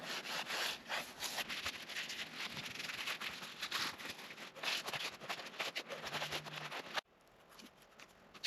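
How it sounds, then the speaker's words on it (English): Rag rubbing down a wood planer's gear housing with lacquer thinner during a rebuild, a steady close scrubbing swish that runs for seven seconds, then stops abruptly. "Wipe it down with some lacquer thinner."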